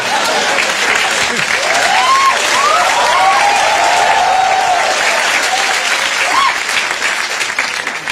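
A room full of stand-up comedy audience members bursts into loud, sustained applause mixed with whoops and cheering, a thick continuous clapping wash that holds steady before easing off near the end.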